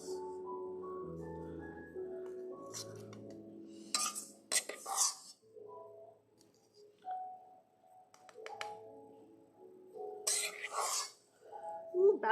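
A metal spoon clinks against dishes while soap is being made, coming as two short bursts of rattling clinks separated by quieter stretches with a soft background hum.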